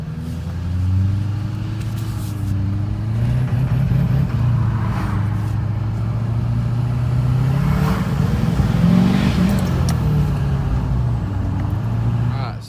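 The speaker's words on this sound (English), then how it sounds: "we're gonna go for a test drive" A vehicle on a test drive after replacement of its turbo vane position sensor and oil pressure switch, engine droning steadily from inside the cabin with rising and falling revs under a constant road rumble.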